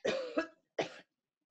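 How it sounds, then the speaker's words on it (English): Someone close by gives two or three dry coughs in a quick burst, then falls quiet in a still room in a quarantine short film. "Anyway, it's just a cough."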